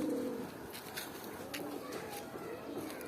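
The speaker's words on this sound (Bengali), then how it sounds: "আর এটা হচ্ছে মাদি কবুতরটা," A female pigeon cooing softly nearby, a few low throaty coos spread across the moment with faint background noise.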